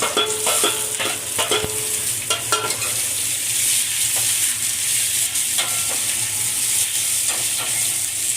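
Medium onions cut into slices sizzle in hot oil, with a continuous bright hiss and crackle broken by clinks and scrapes of stirring, close and steady throughout.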